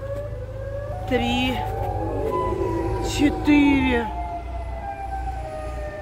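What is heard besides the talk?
Siren Head siren wailing in a video game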